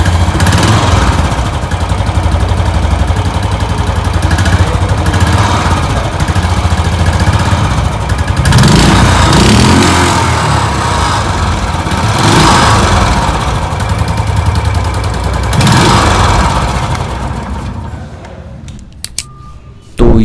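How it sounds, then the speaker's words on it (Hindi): A 2020 Royal Enfield Classic 350 Signals BS6 motorcycle engine runs loud and close with a steady thumping idle and a few swelling revs, then drops away near the end. "ये है रॉयल एनफील्ड सिग्नल्स का साउंड जो कि BS6 कंप्लाइंट है।"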